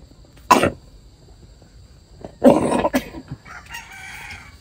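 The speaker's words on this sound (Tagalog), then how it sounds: "Grabe ang ubo mo po." An elderly woman coughs in two distinct bursts, the second longer and harsher, close and clear in a quiet setting, followed by faint throat noises.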